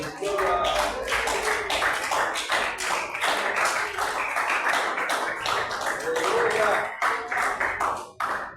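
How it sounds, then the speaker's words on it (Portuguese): Loud, rhythmic clapping fills a church service, a congregation applauding together in a steady beat with voices mixed in over it, continuing strongly for several seconds before tapering near the end. "para as palmas bem forte para o Senhor Jesus"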